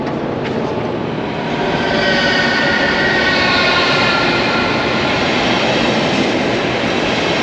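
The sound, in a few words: train in station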